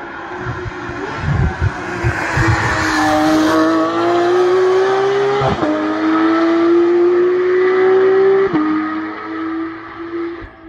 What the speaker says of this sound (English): is Porsche 991 Mark II GT3 RS MR